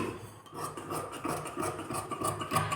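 Scissors snipping through fabric being cut for a blouse, a steady run of close, rasping cuts with no talking.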